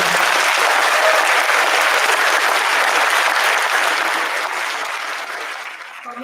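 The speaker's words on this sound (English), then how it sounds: "So one big round of applause for Bhavna." Audience applause at an arangetram, a classical dance debut, for the performer Bhavna: steady, full clapping from a hall crowd that tapers off near the end.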